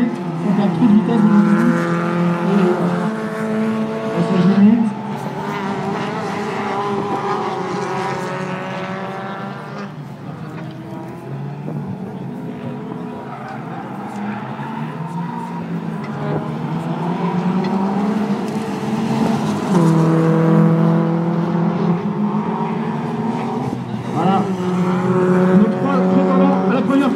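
Rally car engine revving and accelerating on a tarmac section of the track at a French rally, loud and sustained, with a voice commenting over it throughout.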